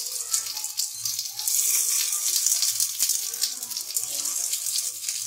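Dough balls sizzle in a pan brushed with ghee, a steady close hiss and crackle with faint clinks, continuing throughout.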